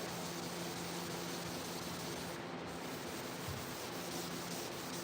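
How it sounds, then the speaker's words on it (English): Steady, even rubbing of sandpaper scuffing the underside of a fibreglass 2-inch cowl hood for a 1987 C30 truck, a continuous hiss with no pauses and no voices. "I'm gonna sand the bottom of it"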